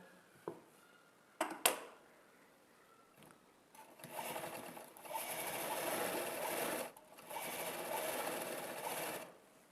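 A sewing machine stitching a fall along the edge of a saree, with a few soft clicks before two steady whirring bursts of rapid stitching separated by a brief pause, close and fairly quiet.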